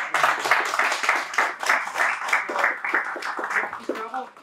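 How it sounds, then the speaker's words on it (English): An audience claps for a guest presenter from Warsaw, Poland, at a technical programming talk: a steady wash of many hands applauding at a fairly even level for several seconds, fading slightly at the end. "Yes, you can clap."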